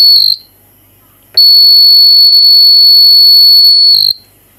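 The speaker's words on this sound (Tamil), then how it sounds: "அந்த தண்ணியில் டச் ஆன உடனே அலாரம் வரும்" A water tank level alarm, triggered when its sensor touches water, sounds a shrill electronic buzzer in two bursts, a short beep then a long continuous tone of a few seconds, loud and piercing.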